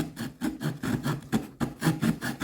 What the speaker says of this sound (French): on va tester les scies